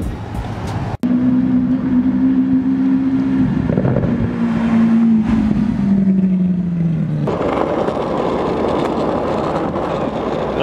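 A supercharged car at a Cars and Coffee meet in Westport Plaza roars loudly and close, its engine note falling and then swelling into a harsher, broader rev after a brief sharp click at the start.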